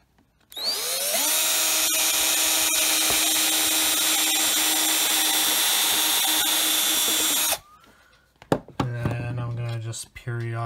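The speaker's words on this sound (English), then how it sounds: "I'm just going to carefully drill it out." A power drill whines steadily at high speed for several seconds while drilling plastic, then cuts off, followed by a few short bursts and light knocks.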